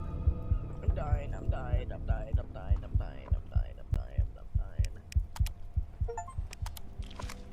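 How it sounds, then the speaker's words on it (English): Game heartbeat sound effect thumping in a steady, rapid double-pulse rhythm throughout, loud and close over a low hum, with music and other game sounds layered on top. "Thank God I'm no longer hearing my heartbeat."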